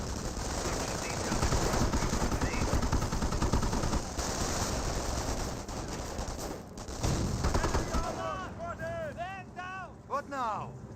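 MG42 machine gun fire in the World War II strategy game Company of Heroes, long rattling bursts in the distance under battle noise, with someone commentating over it.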